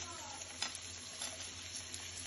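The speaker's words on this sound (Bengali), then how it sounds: "সব সবজি তেলে ভেজে নিব" Cauliflower, mixed vegetables and capsicum frying in oil for a navratan biryani, a steady close sizzle with faint stirring scrapes throughout.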